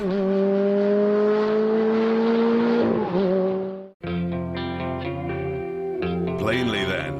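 A Ferrari 430 convertible's engine holds a strong sustained note, drops off sharply, then rises again through a shift, loud and close with an open-top, wind-exposed character.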